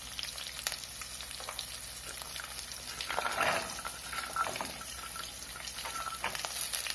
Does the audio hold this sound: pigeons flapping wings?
no